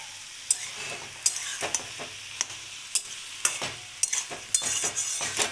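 Cabbage fries in a pan while a spatula stirs it, sharp scraping clicks at irregular intervals over a soft, steady sizzle, close and moderately loud.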